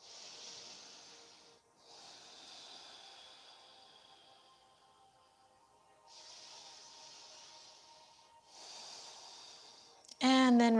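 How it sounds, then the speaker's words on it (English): Slow, hissing nasal breaths during a yoga stretch, several long inhales and exhales close to the mic with quiet pauses between, before a voice cuts in at the end. "Inhaling and exhaling through your nose."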